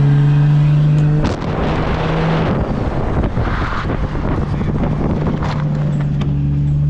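Hard braking in a Nissan S13 fitted with a 2JZ engine, with only the front left brake working: a steady engine hum and broad roar under wind buffeting on the microphone, with a sharp shift in the noise as the car slows.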